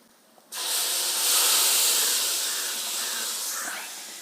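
Water is poured into a hot pan for chicken gravy, setting off a sudden loud sizzling hiss that holds steady for a few seconds and fades slightly, close by with no talking.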